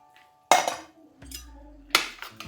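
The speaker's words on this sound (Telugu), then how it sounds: "అలాగే కుక్కర్ మూత తీద్దాం." A pressure cooker lid is opened while mutton cooks in a home kitchen, giving a few separate metallic clanks and clinks spread over a couple of seconds, with a low hum in between.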